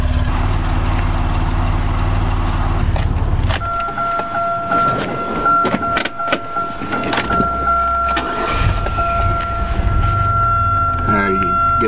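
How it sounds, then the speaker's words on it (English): A 1999 Buick Century with stock exhaust idles with a low, steady rumble, joined partway through by a sustained whine and some clicks and knocks close by. "I love that stock exhaust rumble, but it's gonna sound even nicer straight piped."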